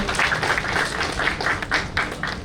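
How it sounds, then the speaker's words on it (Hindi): An audience at a panel discussion in Bhuj applauds in a dense, steady patter of hand claps that carries evenly throughout without fading. "तो एक बार जोरदार तालियां फिर से हो जाए।"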